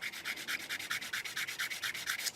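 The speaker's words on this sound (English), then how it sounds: "if we use the firmer sanding sticks, like this style, what you'll tend to do is you'll flat spot that area there" A firm sanding stick rubs over a plastic 1/35 scale Takom Chieftain Mk10 tank model in quick, even back-and-forth strokes, about fifteen soft rasps, close and quiet with no voices.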